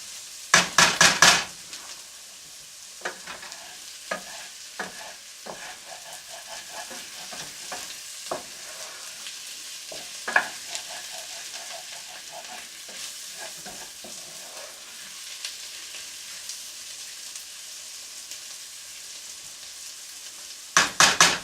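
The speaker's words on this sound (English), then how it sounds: "well I think that's as far as I'm prepared to go with the browning of the onions" Onions browning for French onion soup, sizzling steadily in a pan while a utensil stirs and scrapes, giving scattered clicks over a continuous quiet fry, with a few louder clatters at the start and end.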